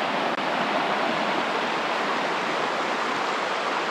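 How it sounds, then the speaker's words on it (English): The Deschutes River near its headwaters in Oregon, where it runs as a small stream, gives a steady, close rush of flowing water with no break and no voices. "This is the Deschutes River"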